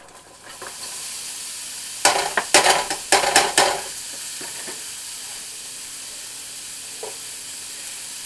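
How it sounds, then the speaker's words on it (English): Chopped onions added to melted butter in a pan for a zucchini pie, a steady sizzle with a burst of stirring and scraping clatter in the middle, then a settling hiss. "Now our butter is melted, so I'm going to go ahead and add our onions."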